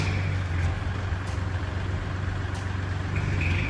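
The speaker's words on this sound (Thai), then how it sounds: "เครื่องยนต์สตาร์ทติดง่ายนะครับ" A 2014 Kubota L3608SP 4WD tractor fitted with a front blade and breaking plough runs with a steady, loud, close engine rumble that holds even throughout.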